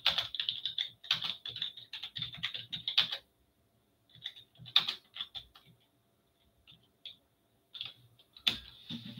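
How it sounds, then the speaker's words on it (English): Nearby computer keyboard typing comes in quick bursts of keystrokes, broken by short pauses and a few scattered single taps. "I'm typing this"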